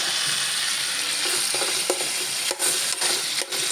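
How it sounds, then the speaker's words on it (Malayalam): A mixture sizzles in a pan while being stirred, a loud continuous frying hiss punctuated by several sharp spoon-against-pan scrapes and taps toward the end, with no one talking. "ഇങ്ങനെ ഇളക്കി അങ്ങോട്ട് യോജിപ്പിക്കുക"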